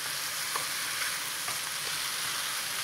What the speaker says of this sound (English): So you need to keep frying this until it browns.